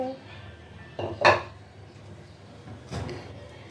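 Beef going into a cooking pot, heard as a couple of metallic clanks and scrapes of utensils against the pot, close and moderately loud over a quiet background.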